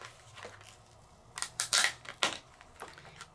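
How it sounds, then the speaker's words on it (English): Quiet room with a few sharp clicks and crunching snips as a paper die for scrapbooking is cut, bursts clustered irregularly in the middle, close and fairly faint. "let's cut the die really, really quick."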